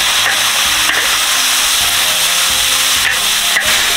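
Tilapia fish frying in hot oil in a pan, a loud, continuous close sizzle and hiss with a few light knocks of a utensil, and no talking.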